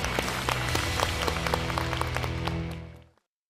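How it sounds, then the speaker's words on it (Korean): A studio audience applauds to welcome a professor before a lecture on drug addiction, steady full clapping that cuts off sharply near the end. "박수를 부탁드립니다."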